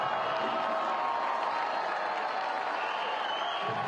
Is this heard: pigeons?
no